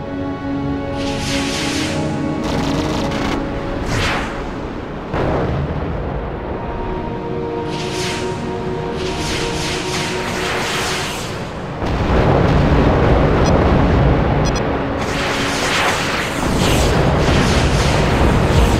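Missiles whoosh and explosions boom in the aerial combat game Rebel Raiders: Operation Nighthawk over a steady loud engine drone. Bursts come in repeated clusters and grow denser and louder toward the end, with no talking.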